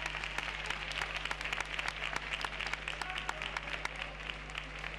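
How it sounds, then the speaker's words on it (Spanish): Dense, steady applause fills a theatre as a carnival-group competition audience claps without pause, a thick crackle of many hands held at an even, loud level throughout. "Venga, el aplauso, ¿no?"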